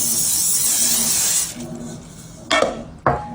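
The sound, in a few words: cooking spray sprayed into a bundt pan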